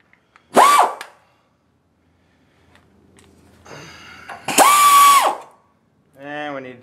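A power tool drives a socket onto the spring plate bolts of a VW bus torsion setup in two short whirring bursts that rise in pitch and then drop off, loud and close, with a voice heard briefly at the end.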